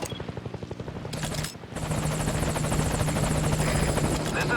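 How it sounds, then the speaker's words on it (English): Helicopter arriving in the video game Metal Gear Solid V: Ground Zeroes, loud and close, with fast rotor chopping that cuts out briefly and then returns stronger and steady. "Okay, but I just called the helicopter,"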